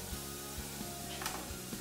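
Smoked chicken sizzles softly in a pan while being browned, a faint steady crackle with a few light taps of utensil or pan.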